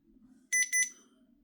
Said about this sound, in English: Hold it for 5 seconds.